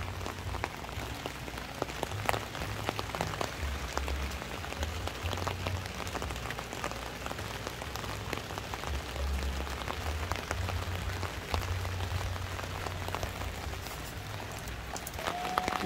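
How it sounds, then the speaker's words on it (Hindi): Steady rain falls on surfaces around an umbrella in a village on Ganghwa Island, South Korea, a dense, even patter with close drops tapping and a low rumble underneath, continuous throughout. "अभी भी बारिश हो रही है, मैं अम्ब्रेला लेके आई हूँ वीडियो बनाने के लिए"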